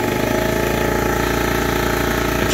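An air compressor runs on a 3000W 240V generator, a loud, steady pulsing engine drone with rapid regular thumping, continuous and close.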